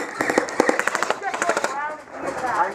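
Airsoft guns fire covering fire in rapid bursts of sharp, close clicking pops, while voices shout over the shooting.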